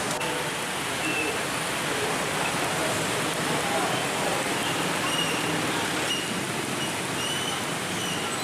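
Steady, dense rain pours over a flooded street after falling since morning, making an unbroken hiss that fills the whole stretch at an even, fairly loud level, with no distinct pauses.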